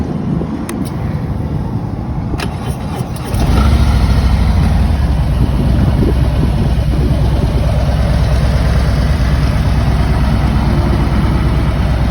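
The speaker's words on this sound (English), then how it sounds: "I'll go ahead and start this thing up for y'all" A 2018 Harley-Davidson Road King Limited motorcycle cranks and fires up, then settles into a steady, deep, loud idle close by.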